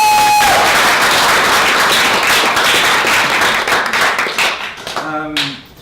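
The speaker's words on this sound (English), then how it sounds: "Can we get a round of applause?" A live audience gives a round of applause after an on-stage conversation, a dense burst of clapping that fills the room and then thins out and fades toward the end.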